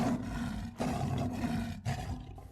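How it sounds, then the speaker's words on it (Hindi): A lion roars loudly in a cartoon story, three long rough bursts in a row with brief gaps between them, and no one speaks. "आवाज से तो लगता है कि कोई शेर मेरी ही ओर बढ़ता चला आ रहा है।"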